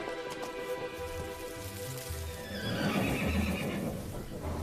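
A horse whinnies near a field, with a drawn-out tonal neigh in the first half giving way to hoof clops and a patter like rain, all at moderate, steady loudness.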